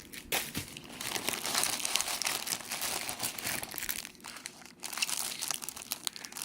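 Crinkly plastic packaging from an unboxed tie crackles and rustles continuously as it is handled up close, with bursts of sharper crinkling and no talking.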